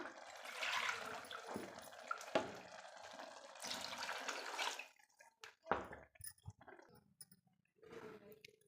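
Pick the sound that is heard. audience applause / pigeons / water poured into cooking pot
water poured into cooking pot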